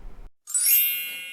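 A bright notification bell dings once after a brief low sound, ringing out clearly and decaying slowly.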